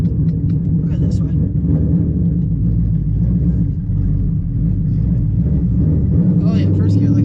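A Ford Mustang with a cammed Coyote V8 and T56 manual gearbox rumbles loudly in first gear, the deep lumpy engine note bucking unevenly up close, with someone talking over it.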